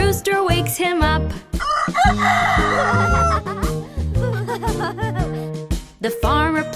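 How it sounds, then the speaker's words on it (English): Rooster crowing inside a children's sing-along farm song, the cock-a-doodle-doo call standing out loudly over a bouncy backing of music. "The rooster wakes him up"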